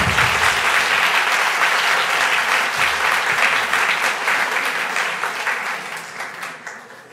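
Dense, steady audience applause fills a school theatre at a liceo in Vicenza during a staged show about the Aeneid, loud throughout and thinning slightly toward the end, with no talking.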